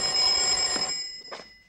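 A telephone bell rings with a steady, bright electronic trill for about a second before cutting off, followed by a faint short noise, moderately close with no talking.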